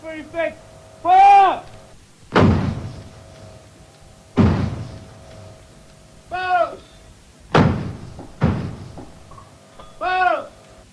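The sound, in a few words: artillery harassing rounds fired after dark at an army camp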